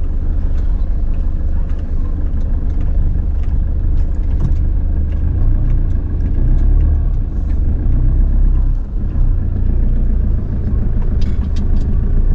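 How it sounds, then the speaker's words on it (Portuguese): Road traffic rolls past a shop exit in Aracaju, Brazil, a loud, continuous low rumble of cars and heavier vehicles heard from close by, with a brief hiss partway through. "Dá uma olhada no trânsito aqui na saída da loja."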